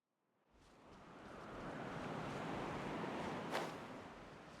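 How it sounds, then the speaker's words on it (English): A wind current pushes the player around in the Miliastra Wonderland video game as a steady, airy rushing whoosh that swells in after a moment and holds evenly, with one small bright blip near the end. "Okay, the wind current works"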